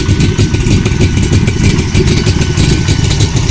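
A Chevrolet C3 Corvette engine idling, a loud, steady, low rumble with an even pulsing beat, close and continuous throughout with no talking.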